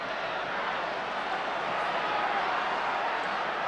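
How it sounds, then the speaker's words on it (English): A rugby league crowd roars at a 1981 minor semi-final between Newtown Jets and Manly Sea Eagles, a steady, dense wash of massed voices holding level throughout with no break. "Crowd roaring."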